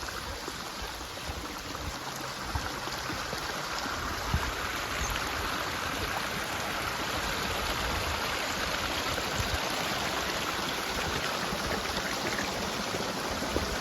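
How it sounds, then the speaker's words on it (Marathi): A mountain stream at Jivdhan Fort, Maharashtra, babbles and rushes continuously, a steady wash of flowing water with no voices. "हा पाण्याचा झुळझुळ आवाज चांगला मंत्रमुग्ध करून टाकतो"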